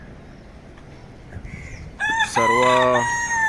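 On a farm with free-roaming country chickens, a rooster crows loudly and close by with a long drawn-out call, after quieter ambient noise and a brief spoken word.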